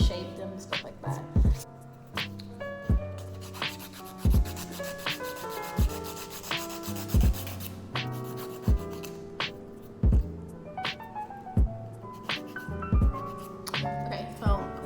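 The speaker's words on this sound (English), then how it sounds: "So now I'm gonna go ahead and file with my hands and reshape them and stuff like that." Nail file rasping against acrylic nails from a home kit, rhythmic short scraping strokes repeating steadily and close, heard under someone talking over background music.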